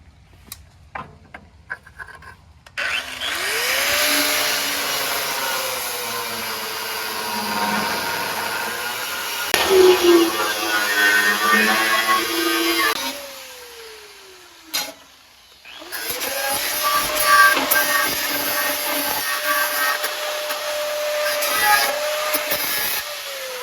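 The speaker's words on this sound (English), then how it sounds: "I was grinding backwards, which I had to do to get started" A grinder spins up with a rising whine and grinds loudly for about ten seconds, then winds down. After a short pause it starts again and grinds steadily to the end.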